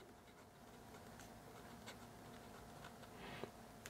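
A pen scratches on paper during an urban sketching session at Gonae-ri, Jeju, producing faint, close, intermittent scribbling strokes over a quiet background.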